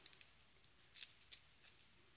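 Scissors snipping card paper, heard as a few faint, sharp clicks. Some come as a quick cluster and others are spaced apart over a quiet background.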